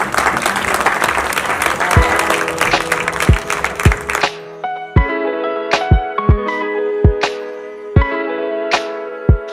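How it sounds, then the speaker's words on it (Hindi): Loud, dense applause from an audience at a Hindi stage event honouring a music director, filling the first four seconds, then cutting off to sparse percussive thumps and tonal musical hits with no crowd. "दर्शकों से एक बार गुजारिश करूंगी कि सर के लिए जोरदार तालियां चाहिए।"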